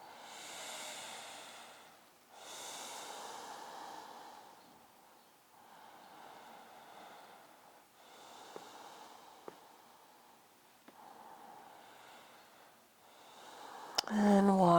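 Slow, deep breaths are taken during a morning stretch, each long airy inhale and exhale rising and falling in a steady rhythm, soft and close. A short clatter comes at the end.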